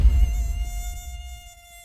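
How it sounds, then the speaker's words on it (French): A thin, high-pitched mosquito whine, steady and close at first, fading gradually as the insect drifts away. "Le bruit du moustique est reconnaissable entre tous."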